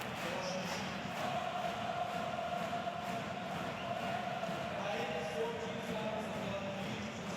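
Basketball arena crowd at a Champions League game roaring in a steady, dense wash of cheering and shouting that holds for the whole stretch without letting up.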